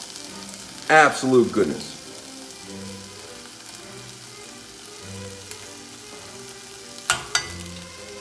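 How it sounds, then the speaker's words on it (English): Shredded garlic sizzles and fries in a pan while salmon is being cooked, with a few stirring scrapes near the start and near the end, and a short spoken remark under the steady hiss. "some garlic and shred some garlic into the pan."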